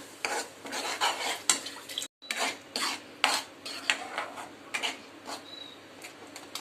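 Masala paste being stirred and mixed in a pan for a raw banana curry, with a spoon scraping and clinking against metal in quick, uneven strokes, close and clear with no talking.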